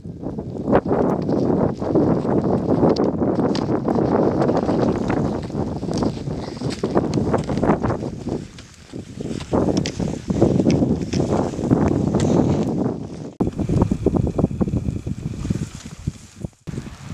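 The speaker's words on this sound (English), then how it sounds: "The wind's really whipping up here today." Strong wind whipping across a snowy Teton backcountry mountainside in below-zero wind chill, roaring and buffeting loudly against the microphone in continuous gusts, with brief lulls and no speech.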